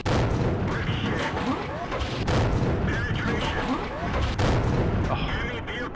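Dense, rumbling battle noise from World of Tanks fills the clip, with booming gunfire from a T71 tank and other tanks, loud and continuous with sharp impacts cutting through, while someone talks over it.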